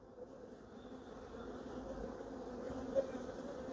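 A close, continuous buzz of many bees hums steadily throughout, low and droning, with no talking over it.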